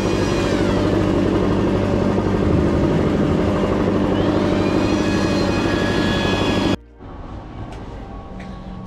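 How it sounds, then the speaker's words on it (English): A handheld leaf blower clears leaves off travertine pavers, a loud steady engine roar with a droning whine that holds for several seconds and then drops abruptly to a quieter hum. "You got a handheld blower."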